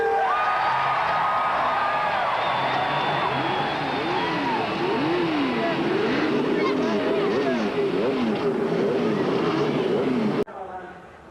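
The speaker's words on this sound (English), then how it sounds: "start your engines." Race car engines at the Indianapolis 500 fire up and rumble together, a dense roar under cheering crowd noise that holds for about ten seconds before cutting off abruptly.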